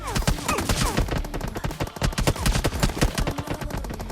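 Rapid gunfire in BGMI PUBG Mobile, dense bursts of sharp shots crackling loud and close in quick irregular volleys, with no voices over them.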